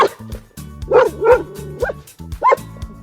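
Small dog barking at a stone outdoors at a lakeside caravan park, a string of close, yappy barks and yips with brief whiny notes between them, no talking.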